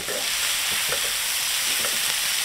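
Shrimp and onions spread over cabbage frying in a pan, a loud, continuous sizzle with repeated scraping stirs close by and no voices.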